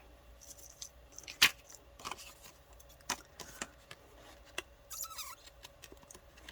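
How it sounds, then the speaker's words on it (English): Small scissors snip paper at close range while cutting out collage pieces made with alcohol inks, a handful of sharp, irregular clicks and cuts separated by quiet pauses. "I need some smaller scissors."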